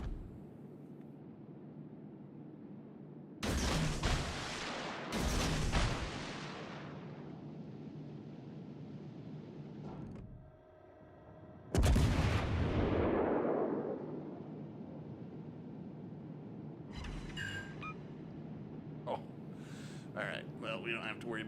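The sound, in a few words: battleship Nagato main guns firing in naval video game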